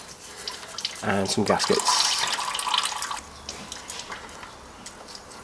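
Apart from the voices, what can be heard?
engine oil draining from aircooled VW sump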